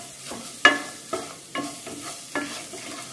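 Spice masala for drumstick sambar sautéed in a pan over low heat, with a steady soft sizzle under several sharp scraping stirs of a spatula, spaced roughly half a second apart, close and moderately loud.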